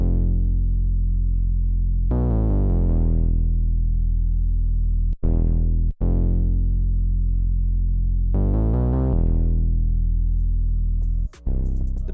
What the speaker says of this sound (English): the last thing I added was a synth bass